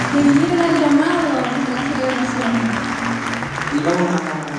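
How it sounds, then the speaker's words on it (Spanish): Steady applause from a concert crowd in San Carlos fills the whole stretch, a dense wash of clapping at fairly close range. "un aplauso para ustedes también que están acá esta noche"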